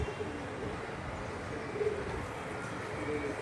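Pigeons coo softly on a rooftop among kept flying pigeons, a low murmuring call repeating steadily over faint background noise, fairly distant.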